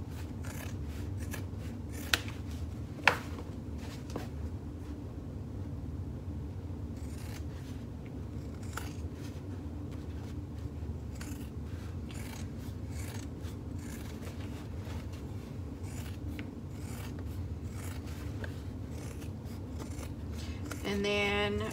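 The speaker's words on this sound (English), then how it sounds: "Sorry, you have to watch me do some boring cutting with my scissors." Scissors snip through fabric seam allowance on a cross-body bag, giving a few sharp close cuts early on over a steady low room hum, with faint scattered snips afterward.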